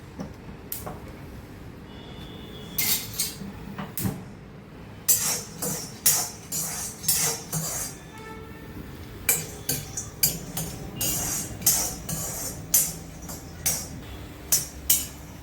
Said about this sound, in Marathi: आता मी प्रथम शेंगदाणे भाजून घेते।